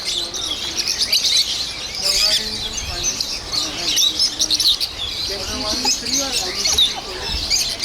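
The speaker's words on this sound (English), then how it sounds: "They're little lovebirds." Small pet lovebirds chirping and tweeting continuously up close, a busy high twittering chatter throughout, with faint voices talking in the background.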